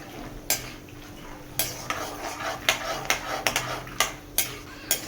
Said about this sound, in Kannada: ಎಣ್ಣೆ ಬಿಸಿ ಆದಮೇಲೆ ಕಡಲೆಬೀಜ ಹಾಕ್ಕೊಳ್ತಾ ಇದ್ದೀನಿ